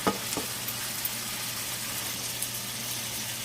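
Bacon sizzling in a large saucepan on a flameless stovetop, a steady faint crackle with a low hum from the stove beneath it, continuous and alone.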